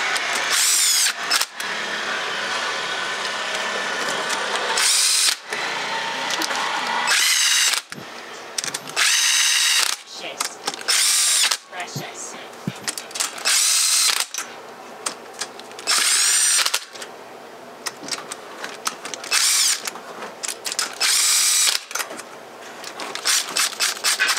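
Power tool running down bolts while fitting an oil pressure gauge on a built B16 EK hatchback, loud close bursts of whirring and ratcheting in repeated short runs with brief pauses between.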